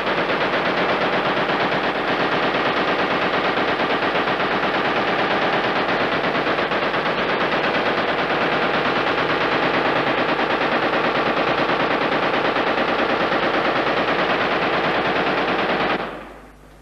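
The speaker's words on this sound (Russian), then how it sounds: "он уже замучил этот пулемет" Machine gun firing in combat in Chechnya in 1995, a loud, continuous rapid burst sustained for about sixteen seconds before stopping abruptly, with no talk.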